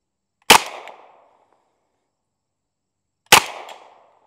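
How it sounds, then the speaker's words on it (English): An M1 Thompson submachine gun fires two single shots at a white target about three seconds apart, each a sharp loud crack followed by a short fading echo, with silence around them and no talk. "Let me shoot that white target again."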